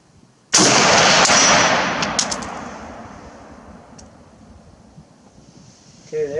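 A single loud, close rifle shot from a Valmet M76 fired at an outdoor range, with a long rolling echo decaying over several seconds and a faint clink afterward.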